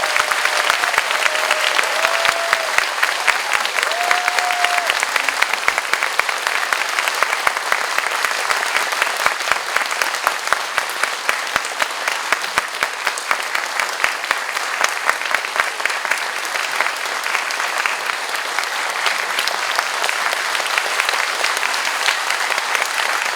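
A large audience at a book concert in Myeongdong breaks into long, steady applause, a dense wash of clapping that holds evenly throughout, with a few faint voices briefly audible near the start.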